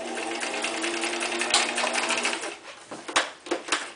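A sewing machine runs a back stitch on an eye mask project, starting with a steady close mechanical whir, then shifting into short stop-start bursts and clicks as it reverses.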